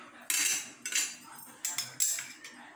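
Crushed ginger and small shallots go into a pot of Tamil-style buttermilk curry (mor kuzhambu), and a spoon clinks sharply against the metal pot four times in uneven strokes, close up and otherwise quiet.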